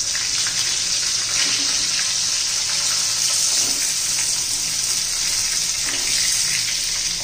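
Bell peppers (capsicum) with garlic sautéing in hot oil: a steady, loud hiss of frying runs through the whole stretch, with faint clinks rising now and then.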